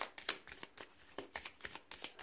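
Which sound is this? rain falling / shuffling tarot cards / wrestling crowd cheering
shuffling tarot cards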